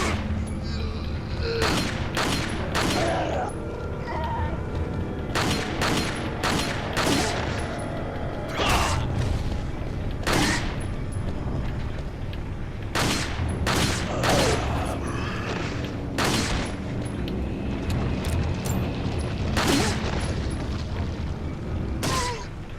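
Game gunfire in Resident Evil 4, a steady run of loud, separate shots spaced through the stretch over constant background sound and mechanical clatter.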